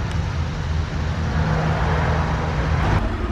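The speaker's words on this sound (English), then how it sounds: "Sounds like a straight up hot rod." A hot rod car engine rumbles steadily with a deep, throaty low-end tone, holding a constant idle-like drone throughout with no talking.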